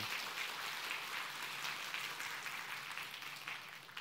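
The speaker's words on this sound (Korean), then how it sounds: "축복의 박수, 하나님께 영광의 박수 올려드리면 좋겠습니다" A church congregation applauds the worship teams after a hymn, a dense, steady patter of many hands clapping at moderate distance with no voices over it.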